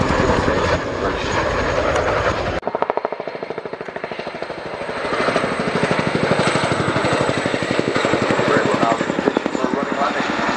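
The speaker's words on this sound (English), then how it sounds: "Primarily working with our UK support helicopters" Military support helicopters fly past at an air show, their rotor blades chopping in a loud, steady, rapid throb that fills the scene after an abrupt cut, with a continuous engine whine overhead.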